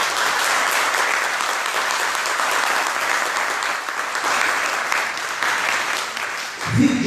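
Church congregation applauding after a sermon on salvation by grace, dense sustained clapping from a large crowd filling the room, fading slightly near the end as a voice comes in.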